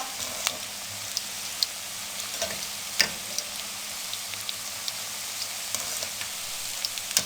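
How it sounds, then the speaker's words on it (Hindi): Gram flour pakoras fry in oil over a medium flame, giving a steady close sizzle dotted with small crackles and pops throughout. "अब इनको हम मीडियम फ्लेम पे इनको फ्राई कर लेंगे।"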